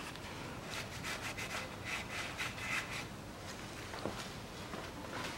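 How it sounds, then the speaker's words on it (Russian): A cloth rubs and wipes across a car part surface to degrease it during a CVT oil and filter change on a 2014 Nissan X-Trail, a soft, continuous scrubbing swish at low volume with brief strokes, no speech. "Площадь, где она прилегать будет, сейчас протру и обезжирю."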